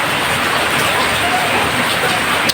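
Rain falls as a steady, dense hiss, close and fairly loud, with no breaks.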